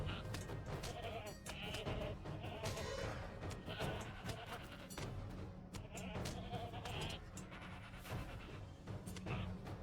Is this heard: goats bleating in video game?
yes